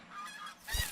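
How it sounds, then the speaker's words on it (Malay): A single goose honks briefly, a short nasal call heard close and fairly loud. "Angsa."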